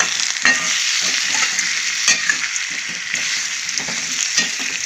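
A curry with prawns, salt and chili powder sizzles in a pan as it is stirred, a loud continuous frying hiss broken by regular scrapes and clinks of the spoon.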